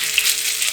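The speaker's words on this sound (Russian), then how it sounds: "На сковороде разогреваем растительное масло, горячее масло выкладываем котлеты" Chicken cutlets hit hot vegetable oil in a frying pan, producing a loud, steady, close sizzle with no talking.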